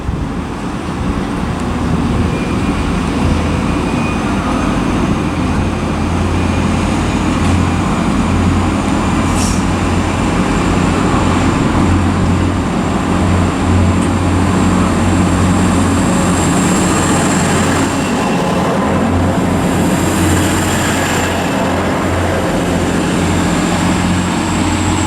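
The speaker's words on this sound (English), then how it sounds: "Is the 1451 Transpennine Express service to Newcastle." A TransPennine Express passenger train to Newcastle, a Class 185 diesel unit, departs Durham station on the East Coast Main Line with a steady, loud low engine rumble and rolling noise that builds and holds throughout, without speech.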